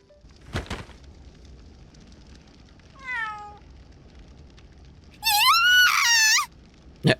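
A stray cat in the video game Labyrinth of Galleria meows several times, short calls first, then a long loud drawn-out yowl near the end, against a quiet backdrop with a couple of sharp knocks.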